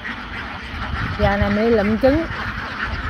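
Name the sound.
flock of ducks quacking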